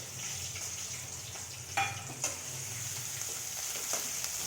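Onion with spring onion greens sautéing in a pan for bharit, a quiet continuous sizzle with a couple of sharp stirring clicks and scrapes, no voices.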